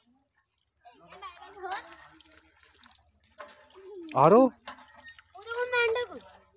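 Water runs from a tap into a container filled for goats, a soft trickle and splash under someone speaking Hindi in the foreground.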